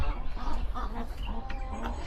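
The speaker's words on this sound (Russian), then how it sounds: "О, привет, курочка." Chickens in a coop cluck and murmur steadily at close range, a dense, continuous farmyard bed of fowl calls with no clear pauses.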